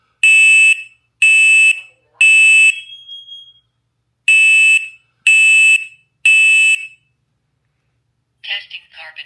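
A First Alert smoke and carbon monoxide alarm sounds a loud, piercing electronic beep in two sets of three pulses separated by a pause, followed by a faint short chirp or voice-like sound at the end.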